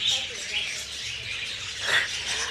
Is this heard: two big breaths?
no